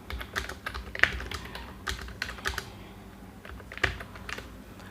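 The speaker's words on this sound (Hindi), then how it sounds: "अब मैं टाइप करता हूँ।" Close typing on a computer keyboard: quick, uneven clusters of key clicks with a few louder taps, over a low steady hum of room or computer noise.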